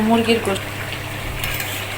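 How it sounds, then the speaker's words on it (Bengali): Chicken curry comes to a boil in a wok while being cooked for Eid, a close, steady bubbling simmer, with a few light utensil clinks at the start. "মুরগির গোশতটা কিন্তু বলক এসে গেছে।"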